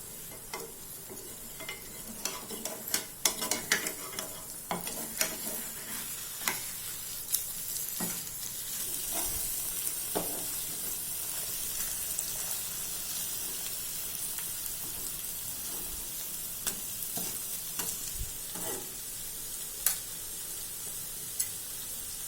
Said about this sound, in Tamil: திருப்பி போட்டு சிம்மில் வச்சு ஒரு 2 நிமிஷம் வேகட்டும்.